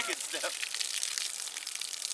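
Water sprays and hisses from a breach in a faulty hose, a steady broad gushing spatter that continues throughout.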